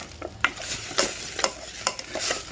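Chopped large onion pieces fry in a pan for tomato dal, a soft, close sizzle under several quick scraping stirs and taps, with no one speaking.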